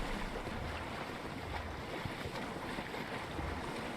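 A low, steady wash of ocean swell and waves rolls around a ship in a video game, a constant wind-laced surf with no distinct breaks.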